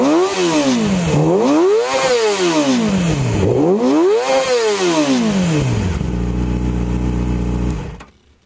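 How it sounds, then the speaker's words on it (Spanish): Yamaha R6 sport motorcycle engine revved hard several times in rising and falling sweeps, climbing to a high-pitched scream, then settling into a steady loud idle before cutting off. "Vamos a escuchar primero la Yamaha"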